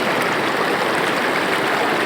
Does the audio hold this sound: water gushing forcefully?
yes